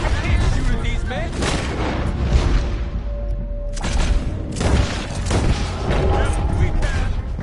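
Repeated loud gunshots in Red Dead Redemption 2 crack and boom throughout a chaotic shootout, shots overlapping in irregular volleys with a brief lull midway, while voices shout over the fire.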